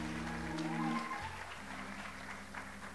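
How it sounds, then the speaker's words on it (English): Church congregation applauding an honoree at a June refreshing service, a steady wash of clapping over sustained musical tones for about three seconds. "Give him another round of applause."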